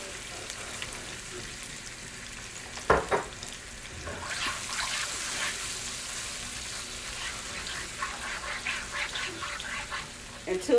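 Garlic browns in a hot pan with low-sodium soy sauce, giving a steady broadband frying sizzle with a brief louder crackle burst and some stirring clatter near the end.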